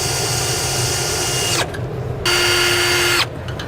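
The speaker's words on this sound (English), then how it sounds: "We're going to drill the hole out just above that one." A power drill bores holes through a truck's upper bracket while fitting SumoSprings Maxim custom helper springs on a 2016 F-series pickup, a loud steady whine running in two bursts with short pauses between them.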